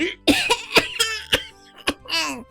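A burst of children's coughs, several sharp hacks in a row from different kids, with a bit of giggling mixed in, close by.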